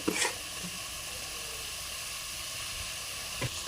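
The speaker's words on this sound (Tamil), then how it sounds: "இப்போ வந்து சிக்கன் கொஞ்சம் அப்படியே வேகுது" Half a kilo of chicken cooks in a pot for a simple homemade biryani, giving a steady soft sizzle and hiss throughout, with a couple of faint knocks near the start and end.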